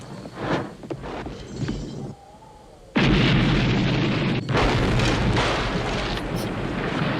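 An explosion from the 1982 film John Carpenter's The Thing, where a shack is blown up: a sudden loud blast erupts after a brief quieter lull, then a sustained roaring, crackling rumble that carries on to the end.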